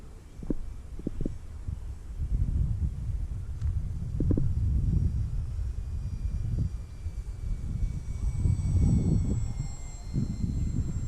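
A HobbyKing Cessna TTX RC airplane flies on a gusty, windy maiden flight, its faint electric motor whine drifting distantly over steady wind buffeting the microphone.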